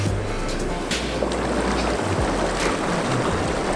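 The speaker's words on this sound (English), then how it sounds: "So this is the hot tub going full pelt really. We've got bubbles and jets on." An inflatable Lay-Z-Spa Hawaii Hydrojet Pro hot tub runs bubbles and jets at full power, giving a steady, dense rush of churning water and air with a low motor hum, close and constant.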